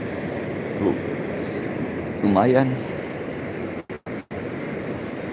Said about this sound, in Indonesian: macam kayak gitu tuh ombak besar kan